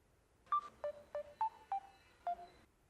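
Six short cell phone keypad tones sound one at a time at an uneven pace, each a brief clean beep with slight pitch changes, close and clear against a quiet background.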